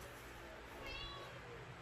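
A house cat gives a faint, short meow partway through, nearly lost under a steady background hiss and low room noise.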